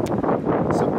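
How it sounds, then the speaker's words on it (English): Strong roadside wind in Hawaii buffeting the microphone, a loud, rough, continuous rush of gusts with low rumble, no voices. "Quite windy out right now, so hopefully y'all can hear us"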